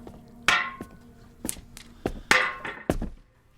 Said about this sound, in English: a cast iron boiler, you can just break apart with a sledge